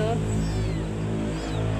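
A cat meows close by, with drawn-out tonal cries heard under someone talking in a noisy indoor setting.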